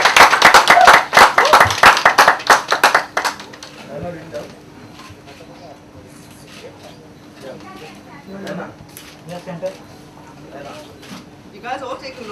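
An audience at a book launch for A Beautiful Truth by Diana Hayden claps in a brief, loud round of applause that stops abruptly after a few seconds, leaving quiet room murmur and a few voices.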